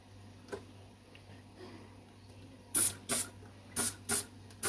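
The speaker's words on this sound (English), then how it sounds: "And then I'm just giving this a quick wipe down." Several short hissing spray bursts, one after another, while fridge shelves are being cleaned in a quiet kitchen. The bursts come close and fairly loud, with soft handling noise between them.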